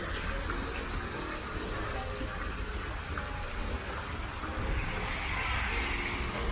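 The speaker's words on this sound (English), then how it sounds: "The sound of water." Steady rushing of flowing water at a koi pond in a rainforest garden, a continuous broadband wash that holds even throughout, with a faint voice briefly underneath.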